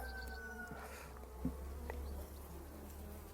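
Honeybees hum steadily around brood frames being moved into a portable carrying box, a close, continuous insect drone with a few brief knocks and handling sounds, no talk.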